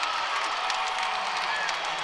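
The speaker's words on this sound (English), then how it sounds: "And the crowd loves that one." A basketball arena crowd at the Hulman Center cheers after an Indiana State three-pointer, a dense, continuous roar of voices and clapping with whoops rising out of it.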